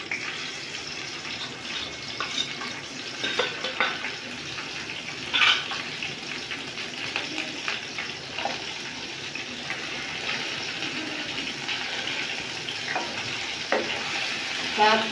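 Garlic-ginger paste and green chilies fry in hot oil for a lentil curry, a steady close sizzle with occasional stirring scrapes throughout, loud and continuous.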